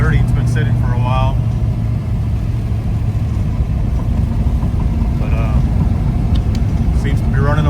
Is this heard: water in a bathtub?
no